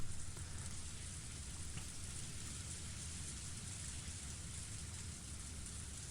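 Steady rain falls in the Higurashi visual novel game, a dense, even hiss of drops on surfaces with a low rumbling underlayer, continuous and moderately loud with no voices.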